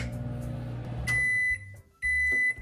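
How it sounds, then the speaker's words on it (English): A microwave oven runs with a steady low hum while melting a Japanese candy kit, then a high electronic beep sounds, pauses, and a second beep follows near the end. "All right, so here it goes in the microwave."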